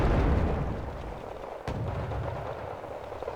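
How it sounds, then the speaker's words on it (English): BMP infantry fighting vehicle firing 100mm shells in the Cold War strategy game Wargame Red Dragon: a heavy rumbling blast decays, then one sharp crack lands midway through a continuous low roar of battle. "this BMP is firing 100mm shells into them"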